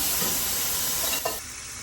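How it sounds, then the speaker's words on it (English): Shrimp hitting a hot pan already warmed with salt and pepper, sizzling loudly and being stirred around, the hiss cutting off abruptly near the end. "put this in the same pan. Already nice and hot. I'm gonna stir that around."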